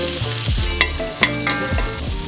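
Lemongrass and spices fry in hot oil with a constant sizzle, broken by a few sharp metallic scrapes and clanks as they are stirred, close by and with no speech.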